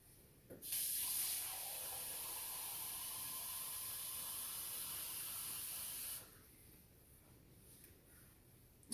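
Water runs from a kitchen tap into a pot, a steady loud hissing stream that starts abruptly, holds for about five seconds, then cuts off, with no one talking.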